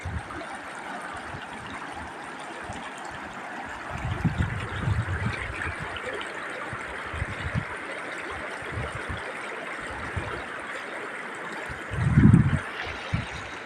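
Steady rushing of a flowing stream throughout, with a couple of brief louder splashes or bumps close to the mic.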